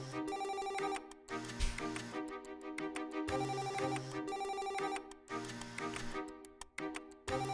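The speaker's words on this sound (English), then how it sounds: "Kieran, it's your phone." A mobile phone rings with a melodic electronic ringtone, a bright tuneful phrase that repeats several times at steady volume, close by with no voices over it.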